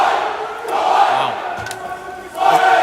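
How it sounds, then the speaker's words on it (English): A crowd at a dodgeball match cheers and shouts in swelling bursts, loud and close, rising again near the end. "you can hear the crowd getting into it"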